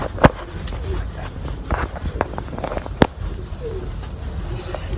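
Breeder pigeons cooing in a loft, with soft repeated coos, wing flutters and light scuffling, close by and moderately loud, with someone speaking at times.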